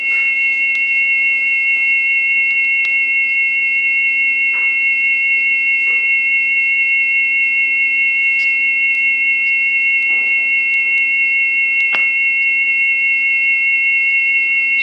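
A steady, unbroken high-pitched test tone plays from a tonearm resonance test record at 5 Hz, on a Rega RB300 tonearm with a Grado Reference Platinum cartridge. The tone holds constant throughout, with faint clicks now and then.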